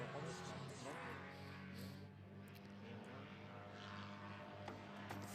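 A paramotor's propeller engine flying a slalom course at the FAI World Paramotor Slalom Championships in Bornos, Spain, making a steady, loud buzzing drone that holds continuously.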